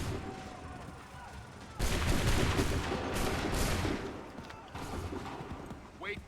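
Gunfire volleys in an Assassin's Creed video game, a sustained burst of massed shots and crackling fire with a second burst after a lull, mixed with shouted battle commands.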